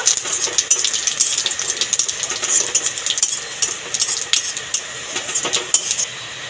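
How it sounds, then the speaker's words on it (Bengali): Whole cloves, cardamom, cinnamon and cumin fry in hot oil while a spatula stirs them in the pan, sending out quick irregular metallic scrapes and clicks over a steady sizzle, close and fairly loud. "ফোড়নটাকে নেড়ে ছেড়ে ভেজে নেব।"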